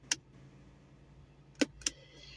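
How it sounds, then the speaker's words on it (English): A 2018 Mazda CX5's electronic parking brake engaging: a sharp click near the start, then two more quick mechanical clicks about a quarter second apart near the end, close up over a quiet background hum. "I got electronic parking brake"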